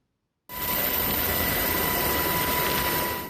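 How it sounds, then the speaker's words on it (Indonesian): A helicopter flies over a mining area during an earthquake rescue in Taiwan, its engine and rotor noise rising suddenly from silence into a steady, loud, broadband roar with no voices. "Dari helikopter diturunkan personel SAR ke area pertambangan untuk mengevakuasi korban terjebak."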